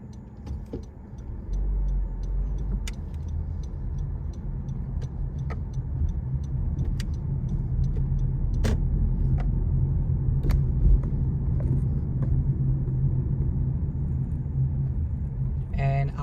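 A car drives through Riverdale in the Bronx, heard from inside as a steady low road rumble with a light ticking like a turn signal and occasional small clicks, with talking in the cabin.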